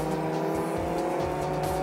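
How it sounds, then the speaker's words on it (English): Racing cars, four Alphas in a historic race, lock up their tyres under braking into turn 14, loud steady engine roar with harmonic whine and tyre squeal throughout, close and continuous with no talk. "Tuck and Davies lock up under braking as they make their way through turn 14"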